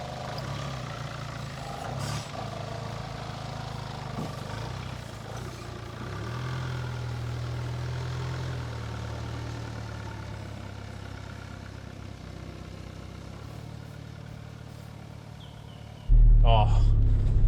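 A 4x4 truck engine in crawl mode with a throttle controller fitted, a steady low rumble and drone at slow speed lasting throughout, ending in a sudden louder close thump.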